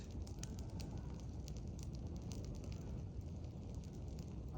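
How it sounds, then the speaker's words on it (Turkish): A campfire burns outdoors during a lunch break on the steppe, giving soft, steady crackling and small pops over a low rumble of wind, fairly quiet and close. "Şimdi öğlen molasındayız. İnşallah ateş yaktık."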